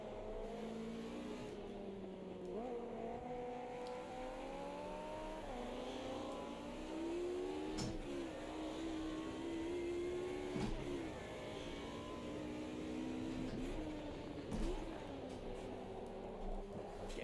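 A Group A Mercedes 190E race car in Automobilista 2 at Circuit Gilles Villeneuve, Montréal, its engine droning and revving up through the gears with steady pitch climbs and brief drops at each shift, heard from inside the car.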